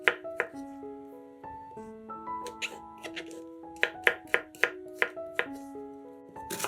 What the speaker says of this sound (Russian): Шампиньоны моем и нарезаем небольшими кубиками.